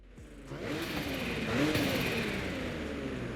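A car engine in Forza Horizon 5 revs up loudly after a quiet start, holding a steady, rising mid-pitched roar for the rest of the moment with no talk.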